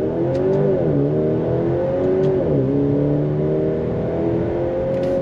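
Turbocharged four-cylinder engine of a 2023 Maserati Grecale all-wheel-drive SUV accelerating hard through paddle-shifted gears, a loud steady rev that climbs, drops briefly at each upshift and climbs again, heard from inside the cabin without talk.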